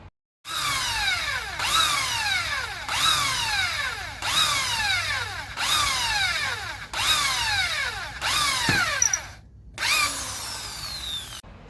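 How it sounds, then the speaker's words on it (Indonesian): An electric drill bores holes into marked wood in repeated bursts, each with a rising whine that falls away, about nine passes in a steady rhythm. "kita lubangi bagian kayu yang sudah kita tandai dengan menggunakan bor listrik"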